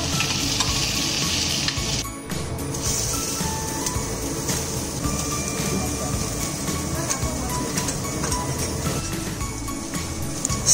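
Mushrooms and vegetables stir-fry in a pan for a family New Year dinner, giving a steady, dense sizzle with scraping stirs throughout, and faint voices in the background.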